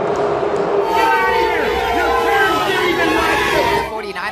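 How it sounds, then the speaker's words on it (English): Buffalo Bills fans in a packed football stadium jeer Colin Kaepernick, a loud, dense crowd roar of boos and shouts that swells and holds steady, with a voice speaking over it. "49er star faced a torrent of jeers from Buffalo Bills fans as he walked onto the field Sunday"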